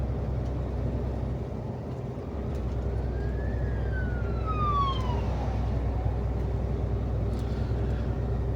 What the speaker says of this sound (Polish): Policja jedzie? Karetka chyba.